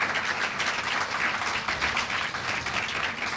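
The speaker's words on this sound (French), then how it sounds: "Si vous voulez des applaudissements, s'il vous plaît." A summer camp closing ceremony crowd breaks into dense, loud, continuous applause, many hands clapping at once with no voices cutting through.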